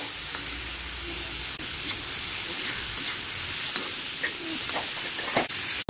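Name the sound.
onion frying in pan until reddish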